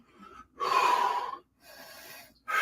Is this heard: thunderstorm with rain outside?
no